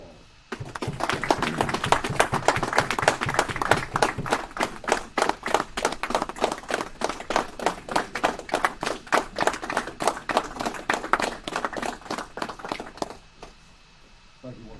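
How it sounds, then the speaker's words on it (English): Audience applause at a union officer installation ceremony: a steady, fairly close round of clapping from a crowd, beating in a regular rhythm for about twelve seconds before stopping abruptly, with faint voices murmuring underneath. "I'd like to give him a hand of applause."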